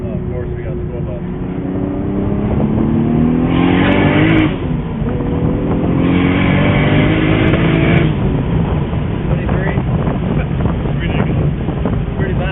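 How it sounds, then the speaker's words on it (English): Car engine revving hard with a loud, booming exhaust, heard from inside the car with wind buffeting the microphone, two rising surges of throttle, while people talk over it. "It sounds absolutely impressive. The exhaust sounds really good."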